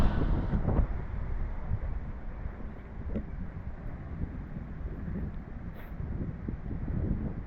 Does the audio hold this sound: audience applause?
no